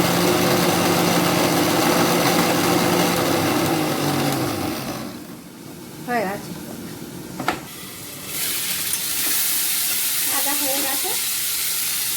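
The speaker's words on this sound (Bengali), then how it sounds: "ঢ্যাঁড়সটা ভাজতে দিয়েছি" Okra frying in oil in a home kitchen, a steady loud sizzle that fills the first five seconds, then drops to a quieter hiss with a few brief clinks before the frying swells again.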